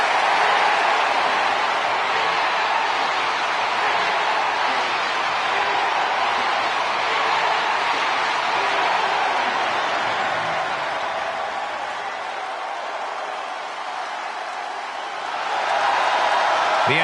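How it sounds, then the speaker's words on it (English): Video game arena crowd in WWE 2K24 cheering and roaring for Jey Uso, a steady broadband wall of noise that holds loud throughout, dips briefly near the end, then swells again. "WWE Universe on their feet for Jey Uso."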